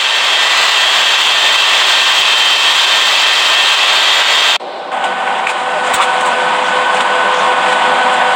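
Emirates jet airliner engines roaring on takeoff from runway 05, a loud steady broadband roar that drops sharply in level partway through, then continues as a quieter sustained rumble.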